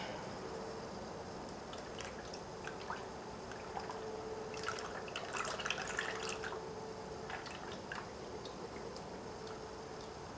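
Coolant trickles and drips into the cooling system of a 1999-2007 Ford Focus, a faint, irregular patter of liquid splashes over a low background hum.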